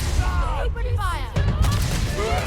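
Gunfire crackles in the sci-fi video game Starfield, a couple of sharp shots and bursts amid a busy battle soundscape, with a voice talking over the action.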